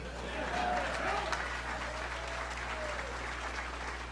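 A university crowd applauds during a speech by a football coach, a broad, continuous wash of clapping with some cheering voices over a low hum.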